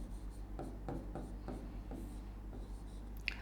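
Chalk writing on a classroom board during a chemistry lesson, a run of soft scratchy strokes in an uneven rhythm over a low steady hum, with no talking.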